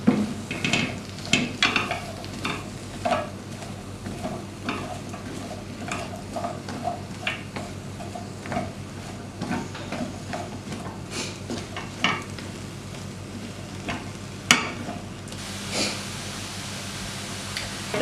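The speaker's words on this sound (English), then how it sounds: "And give it a stir." Courgettes and mushrooms frying in a pan while being stirred, a soft ongoing sizzle broken by repeated scrapes and knocks of a spoon against the pan, fairly quiet and close.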